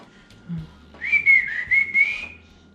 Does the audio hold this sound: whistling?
yes